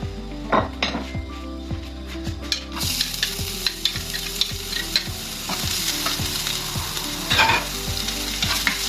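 Garlic, onion and chicken frying in oil in a pan, a bright continuous sizzle that swells louder partway through, with repeated rhythmic clinks and scrapes of a utensil stirring against the pan, close up and without talk.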